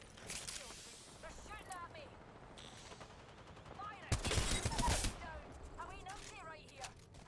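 G7 Scout rifle fire in an Apex Legends match, a few sharp gunshots and a dense burst of fire with mechanical clicks amid game effects, loud and close.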